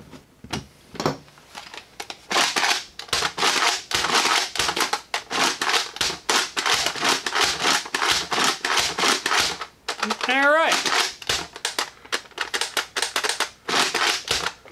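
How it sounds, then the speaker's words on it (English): A toy blaster fitted with a heavier trigger spring is slam fired, giving a rapid run of sharp, loud mechanical clacks in a fast, slightly uneven rhythm, close by, with a brief pause and a person talking. "let's button it up a little bit again and see how it responds to some slam firing now."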